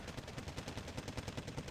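Rapid gunfire from M36 tank destroyers in the Cold War strategy game Wargame: Red Dragon, a steady burst of dense, evenly spaced shots with no voices.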